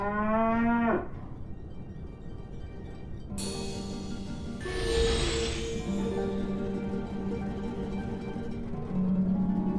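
Cartoon character in the Sam & Max adventure game voicing a drawn-out cow moo, rising then breaking off, followed by layered game sound effects and music-like tones that continue steadily to the end.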